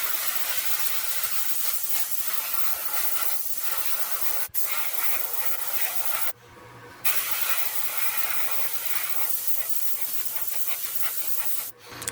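A Gaahleri Ace airbrush sprays paint in a continuous close hiss onto a Hobby Boss U2 model, broken by a brief pause mid-way and a few quick cutoffs.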